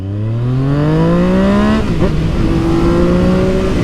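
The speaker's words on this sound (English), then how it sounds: "that torque, that instantaneous bottom end grunt is what makes this bike absolutely fantastic" A 2020 Yamaha MT-09 motorcycle engine revs hard and accelerates up through a gear change, a loud, close, rising whine that dips briefly near the middle before climbing again, heard alone with no speech.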